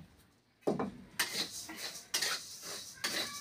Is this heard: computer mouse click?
no